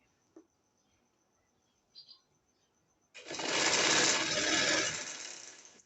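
A sewing machine restitches over an existing seam on a poncha trouser hem. After a few faint ticks it runs in one loud, steady burst of close stitching for nearly three seconds.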